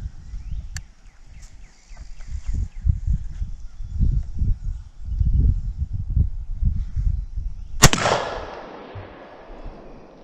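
A Stevens 301 single-shot shotgun, 20 gauge or .410, fires one loud, sharp report near the end, after several seconds of low rumbling handling noise and wind outdoors.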